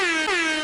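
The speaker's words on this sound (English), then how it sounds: "hit me with the air horn." A single loud air horn blast, steady and brassy with a brief dip partway through, sounding close and alone.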